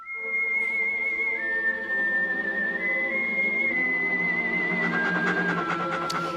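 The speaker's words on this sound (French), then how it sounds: "Attention, le générique de Lassie à la télé." The theme tune of the Lassie television series, whistled as one clear, sustained melody line over a continuous instrumental backing, held steady and moderately loud throughout.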